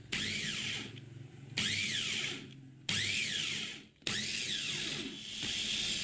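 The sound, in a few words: blender blending mango with water into juice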